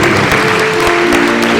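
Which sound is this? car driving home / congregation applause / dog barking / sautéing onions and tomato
congregation applause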